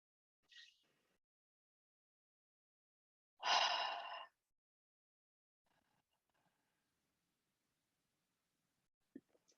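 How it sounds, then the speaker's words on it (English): Someone does ocean breathing: a brief, soft inhale through the nose, then after a pause one longer, breathy exhale through the mouth. Both are close and quiet, and the rest is near silence. "So here's an example of the ocean breathing."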